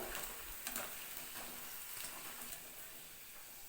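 Onions frying in hot oil over a medium flame, giving a steady close sizzle with scattered crackles and pops that runs the whole time without any voice.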